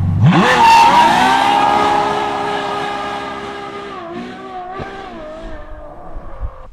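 A Ferrari F12 V12 roaring outdoors, loud and close as it revs up hard, then holds a high sustained tone that fades as it pulls away, with a brief shift near the end.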